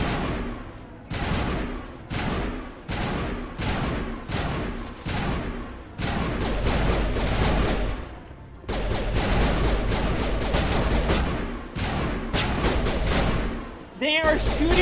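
Enemy gunfire in the sci-fi shooter game Mass Effect, with repeated loud bursts and thuds rattling through a busy, continuous battle mix over roughly fifteen seconds.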